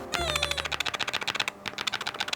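Rapid, crisp keystrokes clatter on an Animal Crossing themed mechanical keyboard, a close, fast run of clicky taps with a brief pause before a final burst.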